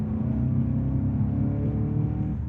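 A 2019 Volkswagen GTI engine holding a steady, throaty drone through its exhaust, loud and continuous without distinct rev swells, no voices over it.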